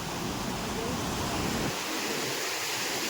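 Heavy rushing water roars steadily at the overflowing Shetrunji Dam near Palitana, a dense broadband wash close by, with a voice briefly heard over it early on.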